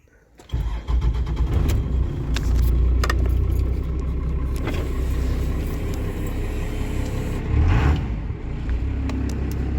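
A pickup truck engine cranks and catches right away, then runs loud and steady close by, with a brief clatter near the start and a surge in revs toward the end.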